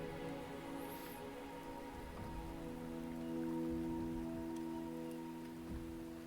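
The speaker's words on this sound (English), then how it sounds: "The rain is subsiding." Rain falls in the video game Wuthering Waves, a steady close patter of drops over a low sustained musical hum, moderately loud with no voices.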